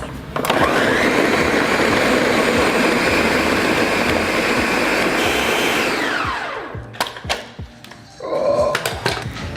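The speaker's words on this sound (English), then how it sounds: "And time to blend. Blender does all of that work for us." A countertop blender purees hidden-veggie pasta sauce ingredients with a loud, steady motor whir for about six seconds, then winds down. A few clunks and taps follow before a brief second burst of blending.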